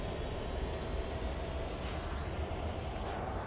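Steady SD60 diesel locomotive sound in a train video game: a constant broadband rumble and roar at low volume, unbroken for a few seconds, with no talking over it.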